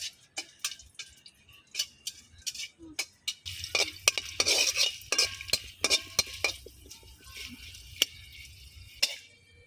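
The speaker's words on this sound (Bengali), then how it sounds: "এখন শুকনো মুচগুলো আমি এই যে বাইজা নিব তেলের মধ্যে অল্প আছে" Dried chilies stirred in a little hot oil in a pan, a spoon scraping and clinking in quick irregular strokes over a soft steady sizzle, close and clear with no talking.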